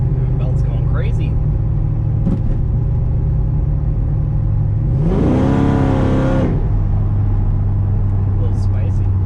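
Supercharged Ford 6R80 car engine, fitted with new billet motor and transmission mounts, revs up sharply mid-drive over a steady low engine drone, the rising whine swelling loud for about two seconds before settling back.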